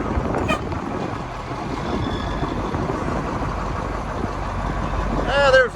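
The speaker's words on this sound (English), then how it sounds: "I'm getting the boom truck here moved around, getting ready to back it up the tractor" A boom truck's engine idles and rumbles steadily as it is maneuvered into position to back up to a John Deere 4840 tractor, with a brief squeal and a horn-like tone near the end.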